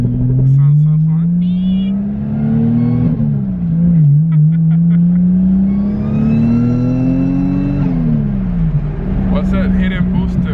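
Turbocharged Toyota JZX100 accelerating hard at full throttle on the street, its engine note climbing steadily, dropping at shifts and climbing again, loud and close, with people talking over it.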